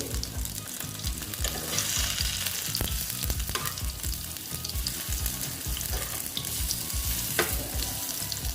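Ridge gourd fries in hot oil in a pan, a dense steady sizzle with occasional clinks and scrapes as the pieces are flipped, close and alone.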